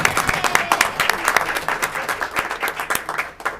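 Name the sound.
audience applause at a school board meeting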